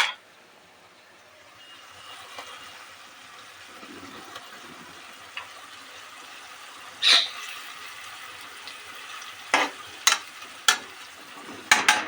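An egg fries in a pan with potatoes, giving a steady soft sizzle with a few sharp clicks and taps near the end.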